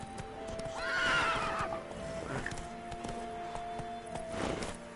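A horse in the video game The Witcher 3 gives a loud, clear neigh early on, followed by quieter clip-clopping hooves and a fainter snort.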